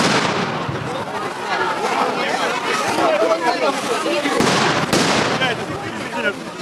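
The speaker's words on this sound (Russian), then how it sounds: "к слезоточивому газу добавились и шумовые гранаты" Stun grenades bursting among a crowd during a street clash with police, several sharp loud bangs at irregular intervals over constant crowd hubbub and shouting voices, with a narrator speaking over it.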